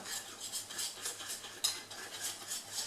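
Spoon scraping around a bowl while smooth olive and ham cake batter is stirred, a steady rhythmic swish with a few clinks against the side, close and fairly quiet with no talking.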